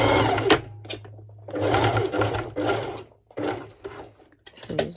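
A sewing machine stitches a twisted-knot halter neck crop top in several short, whirring bursts separated by brief pauses, close and clear.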